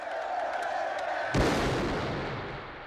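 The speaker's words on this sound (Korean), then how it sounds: "총소리 아수라장이 된 집회 현장." A single loud gunshot from a film cracks out over a murmuring crowd at an outdoor gang rally, followed by a long rumbling decay.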